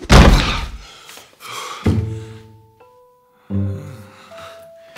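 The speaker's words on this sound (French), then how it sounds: "après avoir pété la poignée, il peut essayer de défoncer la porte" Heavy thuds against a door as someone tries to break it down, a loud impact opening the clip followed by two more blows, each trailed by low ringing tones, with brief quiet gaps between.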